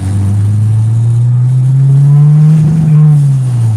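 A Honda GSR engine revving hard under full throttle, a loud close drone that climbs steadily in pitch, peaks, then eases slightly toward the end, with no talking.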